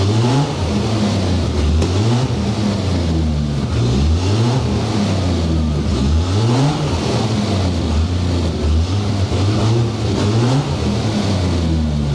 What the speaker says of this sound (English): Finally, after 18 months of trying to get this car started, it runs.